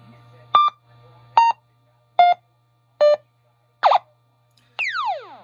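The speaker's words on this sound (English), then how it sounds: "You gotta love the beep boop." A repaired Stern Wild Fyre SB-100 pinball sound board plays five short electronic beeps at a steady rhythm over a low hum, then a falling, sweeping electronic tone, clean and close.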